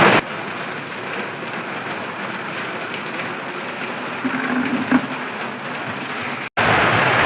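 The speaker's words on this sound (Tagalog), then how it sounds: "habang lumalakas yung ulan" Steady heavy rain pours down continuously at close range, a dense even wash of drops with a brief dip near the end, no talking over it.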